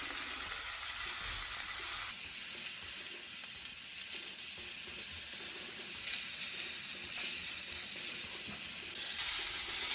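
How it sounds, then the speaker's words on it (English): A very thick steak sears in a hot pan, giving a continuous loud close sizzle that holds steady throughout with no talking. "As the steak continues to sear, this is a very thick steak"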